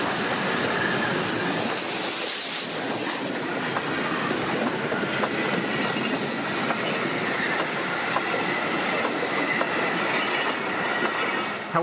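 A train on a special service runs steadily past on the rails, with a loud continuous rumble, rhythmic wheel clatter and a high metallic squeal near the start.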